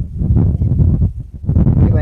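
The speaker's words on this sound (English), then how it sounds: "it is a bit windy here this morning" Wind buffets the microphone in low, rumbling gusts by a river in the morning, loud and continuous throughout with brief dips.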